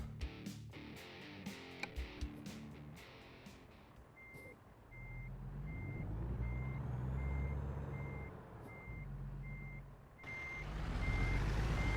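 A truck's reversing alarm beeps at a steady rhythm in American Truck Simulator, a video game, over the low rumble of the truck's engine, which rises and swells as the truck maneuvers.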